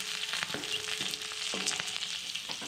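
Garlic cloves and green chillies sizzle and crackle steadily in hot oil in a pan, with a few clinks of a utensil stirring them, loud and close, with no talk.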